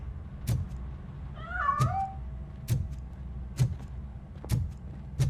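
A cat in the video game RoboCop: Rogue City meows once, a short rising-falling call, over a steady rhythm of sharp repeated knocks or footsteps at regular intervals.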